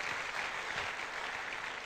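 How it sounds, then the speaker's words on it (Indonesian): An audience at a seminar applauds doctors with a dense, steady burst of clapping that holds at an even level throughout. "Mohon aplaus untuk dokter ini dan dokter Haryono."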